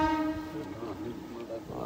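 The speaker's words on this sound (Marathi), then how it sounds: "ट्रेन पण आलेली आहे" A train arriving, announced by a long tonal horn that is strongest at the start and fades, over continuous rail rumble at moderate distance.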